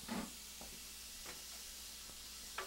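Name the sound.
onion sautéing in olive oil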